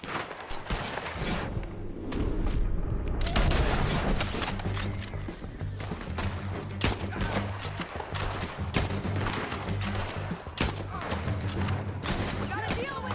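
Scattered gunshots and bursts of fire ring out in a Red Dead Redemption II shootout, sharp cracks and thumps repeating irregularly over a rumbling background while a voice talks in between.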